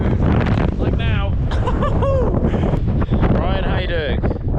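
Strong gusts buffet the microphone on an exposed windy height along a coast-to-coast walk, a loud continuous low rumble under someone talking throughout.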